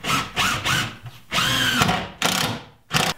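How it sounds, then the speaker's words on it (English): A power drill drives screws into a wooden French cleat in a workshop, with a series of short, close, loud whirring bursts separated by brief pauses. "And now I just need to put some screws in."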